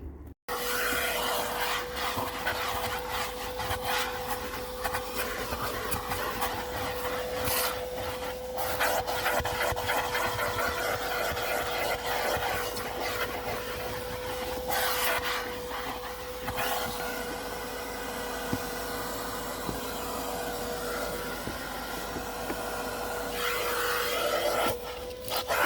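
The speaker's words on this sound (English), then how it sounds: "give it a complete vacuum" Car interior being vacuumed during a valet, brush nozzle rubbing over carpets and upholstery, a steady motor whine under continuous scraping and rasping strokes, close up and sustained with brief changes in pitch as the nozzle moves.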